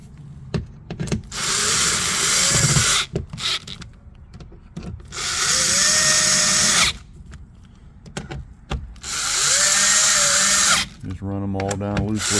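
A power drill whirs in three long bursts, each a few seconds, driving screws to refit the door speaker of a 2017 Ford F250, with short handling noises and brief talk in between.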